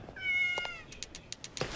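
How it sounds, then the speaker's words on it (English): A cat gives a drawn-out, wavering meow up close, followed by several short clicks and taps and a brief rustling burst near the end. "Cats are terrible at math, but they sure do multiply."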